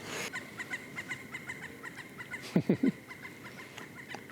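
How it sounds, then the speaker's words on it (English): Outdoor ambience at a millpond with faint repeated high chirps, then a short burst of clucking bird calls close by, set against a steady background hiss. "Birds making noise."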